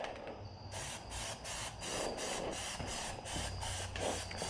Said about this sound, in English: You just wanna just skim and lightly mist the surface.